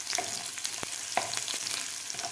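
Finely chopped garlic cloves frying in oil with cumin for a village-style amaranth greens dish crackle in a continuous close sizzle, broken by a few sharp stirring scrapes.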